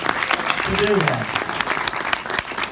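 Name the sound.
audience applause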